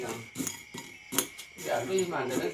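A utensil stirs salt into cooking noodles, giving a few sharp metallic clinks and scrapes against a pot in an irregular rhythm, followed by a softer stretch with speech-like sound over it.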